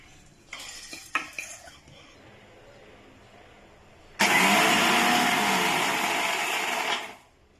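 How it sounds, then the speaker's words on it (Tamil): Flattened rice (aval) is dropped into a mixer grinder jar with a few clattering knocks, then the grinder roars loudly for about three seconds, a steady close whir that cuts off abruptly. "அடுத்தது அவள் எடுத்து மிக்சி ஜாரில் போட்டு பொடி பண்ணிக்கலாம்"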